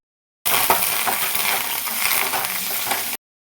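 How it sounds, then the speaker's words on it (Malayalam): Mustard seeds added to a pot of curry make a dense, crackling, popping sizzle that starts abruptly, continues evenly for nearly three seconds, then cuts off. "കറിയിലേക്ക് ഇതാ കടുക് ഇട്ടിട്ടുണ്ട് കേട്ടോ."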